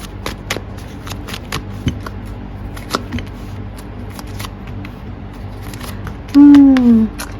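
Tarot cards shuffled in repeated quick riffling bursts, with a short louder tonal sound near the end; a faint voice murmurs underneath.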